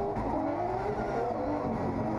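Drag racing car at the start line as a tire pops and the car fails to launch, heard as a loud, continuous engine roar with a rising tonal whine across the whole stretch.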